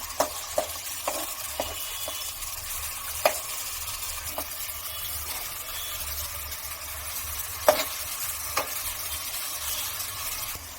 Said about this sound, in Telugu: 2 స్పూన్స్ జింజర్ గార్లిక్ పేస్ట్. ఇది పచ్చివాసన పోయేంత వరకు వేయించుకోవాలి.